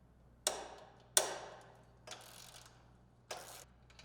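Fastener and nut being removed from the lower control arm pivot of a 2023 Polaris Patriot Boost Indy VR1 snowmobile: four separate metallic clicks and knocks, the first two sharp and close, the later two softer, each with a short ringing decay over a quiet background.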